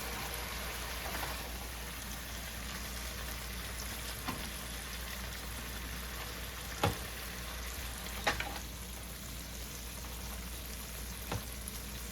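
A steady, quiet sizzle of chicken breast stuffed with asparagus frying in a pan, with a few small pops and clicks along the way.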